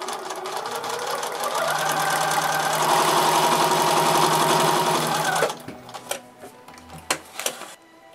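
A sewing machine stitches paper-pieced fabric in a steady, fast mechanical whir that runs unbroken for about five and a half seconds, then stops abruptly, leaving a few light clicks and handling sounds.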